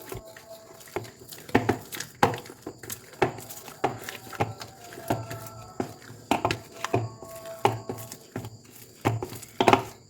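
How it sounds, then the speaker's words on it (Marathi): A metal tumbler pressing and mixing rice flour dough in a vessel, making irregular dull thumps and knocks at close range, sometimes in quick clusters, with no talk. "परत हे पीठ मी एका भांड्यात काढून घेते आणि परत हे पीठ मी तांब्याने एकदा परत मिक्स करून घेते एकजीव"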